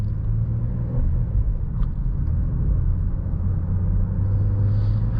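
A 2020 Acura MDX SUV with a nine-speed automatic driving through a corner, its steady low engine and road rumble filling the cabin evenly throughout, with no talk.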